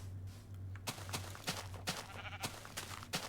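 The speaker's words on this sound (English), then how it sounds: "Is that a pink sheep?" A pink sheep bleats in Minecraft Beta 1.7.3, a handful of short, clear bleats repeating at irregular intervals over a low steady game hum.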